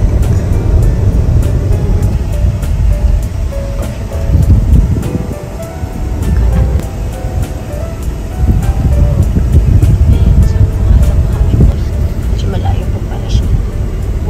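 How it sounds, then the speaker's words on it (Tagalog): Steady road traffic in Bali, a continuous dense rumble of passing vehicles and engines heard close and loud, with occasional clatter and tonal whines over the wash. "Traffic."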